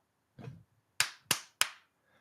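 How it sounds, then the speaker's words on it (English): Three sharp hand claps about 0.3 seconds apart ring out clearly and close in a quiet room, with a brief softer rustle just before them. "Do a clap before you start, so I know where to pull it off on the audio"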